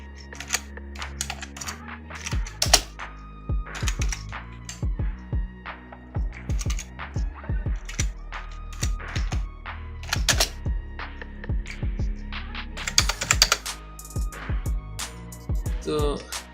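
Text being typed on a computer keyboard while working in Adobe InDesign CC, a run of close, crisp key clicks in uneven bursts with short pauses and a few heavier thunks.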